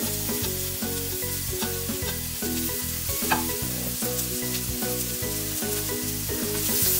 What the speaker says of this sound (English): once the oil is hot, we are going to add our chopped onion into it